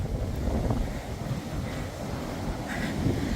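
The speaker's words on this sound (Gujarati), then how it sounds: "છે ને બાકી તોફાની દરિયો" Stormy sea with wind at Holywell Bay beach, a continuous rough roar of waves and gusting wind buffeting the microphone, loud and close throughout.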